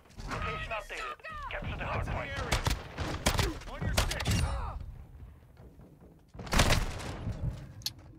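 Bursts of gunfire from the video game Call of Duty Modern Warfare II ring out amid busy game audio, rapid shots clustered in the first half and another loud burst near the end, mixed under a player talking.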